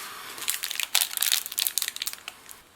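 Plastic wrapping on a Polish civilian ready meal of chicken pasta in Tuscany sauce crinkles and crackles in quick, irregular bursts as it is pulled open, close and fairly loud, with no talking.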